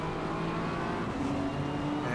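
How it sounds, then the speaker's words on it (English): Race cars in a virtual Kyalami endurance race rumble steadily as they head into the pits, a continuous engine drone with a rising tonal whine partway through, fairly loud and without talk. "And a bunch of cars going into the pits."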